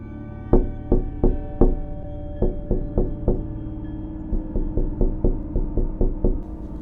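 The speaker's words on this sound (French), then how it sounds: "nous avons entendu de nouveaux coups" Sharp knocks strike in uneven clusters, about fifteen in all, each one resonant and fairly close. A few quick raps are followed by short pauses, then further bursts. No one speaks.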